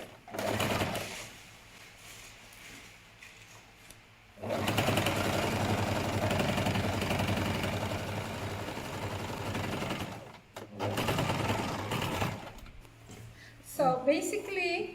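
A sewing machine stitches the edge of a reusable mask, running in a long steady mechanical whir for several seconds between shorter bursts, with voices heard briefly at the start and end.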